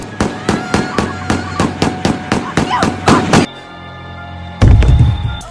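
A rapid string of about a dozen sharp pistol shots, a full magazine emptied in a film scene, fires in steady rhythm, then a pause with a low hum and a heavy thud.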